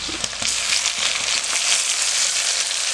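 Tomatoes frying with shallots in a hot pan, a loud, dense, steady sizzle close up with faint crackles and occasional stirring scrapes underneath.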